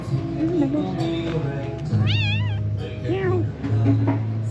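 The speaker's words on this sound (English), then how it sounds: "Hey, kitty cat." A cat meows in a series of rising, wavering cries at an outdoor spot by Pran Buri Reservoir near Hua Hin, Thailand, close and clear, while people talk nearby and a steady low hum runs underneath.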